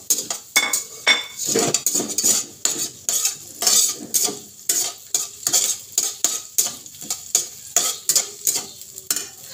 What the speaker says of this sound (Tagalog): So, magluto ko karog adobong chicken and pork. So, ako nang siyang gimix